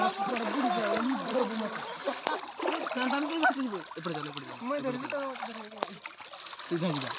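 Water splashes repeatedly close by as someone wades or moves through it, while a person talks over the sloshing.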